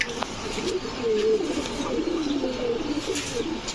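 A pair of red and white Golla pigeons coo in low, continuous, warbling rolls close by, with faint background noise and a soft voice nearby.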